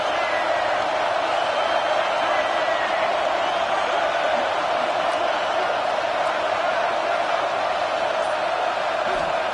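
A football stadium crowd cheers on a third down during a UCLA vs. Cal video game matchup, a dense, steady roar of many voices that holds constant throughout, loud and continuous with no distinct individual shouts.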